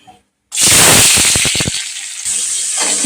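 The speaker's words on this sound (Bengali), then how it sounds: "এখানে গাজরগুলো ভেজে নিচ্ছি" Carrots sizzle loudly as they drop into hot white oil in a wok, a sharp crackling burst with popping bubbles that settles into a steady close frying hiss.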